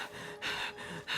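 The traveler character in Genshin Impact pants repeatedly, a series of breathy gasps in an even rhythm, close and fairly quiet with no talk over it.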